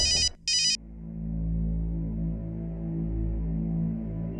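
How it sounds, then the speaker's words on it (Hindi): Phone ringtone at home, two short bright electronic ring bursts at the start, cut off, followed by a low sustained droning background tone. "प्रतिभा, ये तीसरी बार फोन काट रही हो तुम।"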